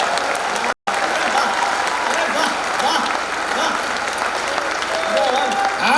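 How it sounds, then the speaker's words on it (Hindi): Sustained applause from the audience at a Hindi comedy poetry gathering (hasya kavi sammelan) at the Tapti Mahotsav in Multai, a dense wash of clapping with a brief cut near the start, crowd voices mixed in. "आपकी तालियां और बढ़ाना।"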